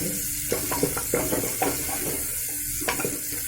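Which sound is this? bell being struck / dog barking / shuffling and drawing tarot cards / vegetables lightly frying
vegetables lightly frying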